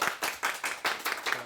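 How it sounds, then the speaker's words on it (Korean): An audience at a live book show applauds to welcome an author, steady rhythmic clapping from a modest crowd, soft and fairly distant, with no talking. "박수 부탁드리겠습니다."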